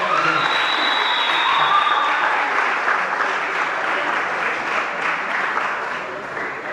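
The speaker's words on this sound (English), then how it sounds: "Please, can we give him a round of applause?" An auditorium audience at a debate session claps for the evening's chairman, a steady wash of applause that stays loud throughout and eases slightly toward the end.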